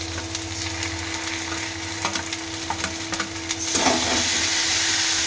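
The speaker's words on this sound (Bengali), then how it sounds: "এবার দেবো জিরে বাটা" Cumin paste sizzles in a pan over fried onions, garlic and ginger paste, with scraping stir strokes from a utensil and a sudden louder burst of frying near the end; nobody speaks.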